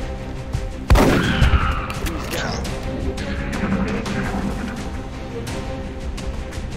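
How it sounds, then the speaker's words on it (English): Rapid-fire gunshots in the tactical game X-COM: Enemy Within, a sharp loud burst followed by a ringing, decaying rumble and scattered impacts, with a voice talking. "I'm going to use rapid fire on them."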